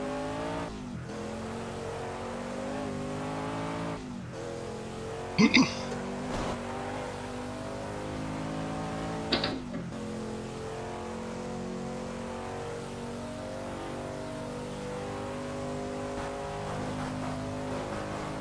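A Sauber C9 race car in Project CARS roars at steady high revs, with engine pitch climbing and dropping through gear shifts and a couple of sharp clunks, while people talk over it.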